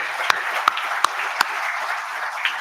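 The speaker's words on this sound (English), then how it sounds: "Let's give a round of applause to all of them." Scattered, sparse claps from an audience at a seminar on the Finance Bill, 2025, rising above a steady wash of room noise and murmur, with four or five distinct hand strikes standing out.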